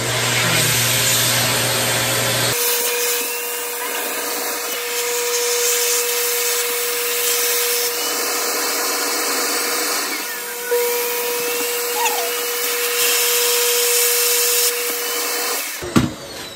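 A steady, loud mechanical whir runs almost continuously, a vacuum drawing air out of a storage bag, with a brief click near the start and end.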